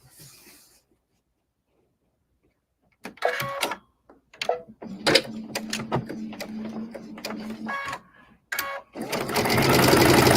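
A sewing machine stitches across the top of a zippered bag, running in several short bursts with brief pauses between them, close and fairly loud, with no talk.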